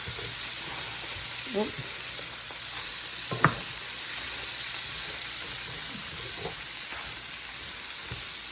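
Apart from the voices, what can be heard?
cabbage and kielbasa sizzling while frying in a pan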